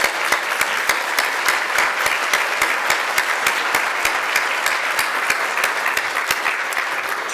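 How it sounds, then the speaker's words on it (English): Sustained applause from an awards ceremony audience for the hardworking professional event team, dense and steady clapping filling the room without pause, with no speech over it. "please give them a round of applause"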